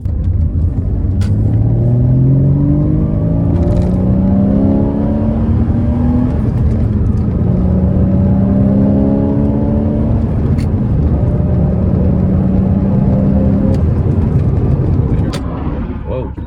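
A Toyota Corolla with a manual gearbox drives under a loud interior engine rumble. Engine pitch climbs and then drops several times as gears are shifted, with talking over the drone.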